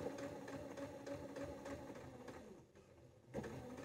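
A sewing machine stitches the lining of a bucket bag, making a rapid, even mechanical chatter at close range. It pauses briefly near the end, then starts again.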